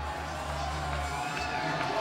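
A wrestling crowd at a pro wrestling show reacts to Virgil's entrance as his music plays, a steady wash of mixed cheers and shouts with no break.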